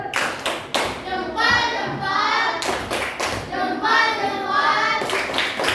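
Students in a classroom perform a rhythmic clapping cheer, sharp group claps alternating with chanted children's voices in a repeating pattern, loud and close.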